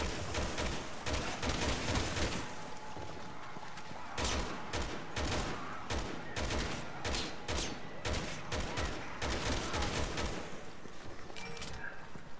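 Assault rifle fire in Resident Evil 6, dense bursts of rapid automatic shots cracking in close succession, loud and near, with brief gaps between volleys and no talk.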